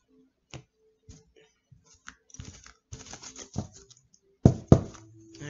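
A deck of tarot cards being cut and shuffled on a table, sparse soft taps and riffling flicks up close, ending in two sharper slaps as the stacks are set down.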